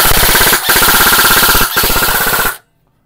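A G&G airsoft rifle fires on full auto in three rapid, loud bursts separated by brief pauses, then stops abruptly into silence.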